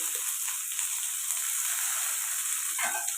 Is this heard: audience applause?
no